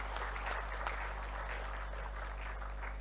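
Audience applause at a medical congress in Kinshasa, a steady broad clatter of many hands filling the room evenly for about three seconds.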